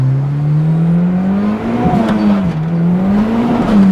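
A K23 turbo-swapped Honda Civic EG revs hard under power as its front wheels spin, the engine note rising and wavering continuously, loud and close, with no talking.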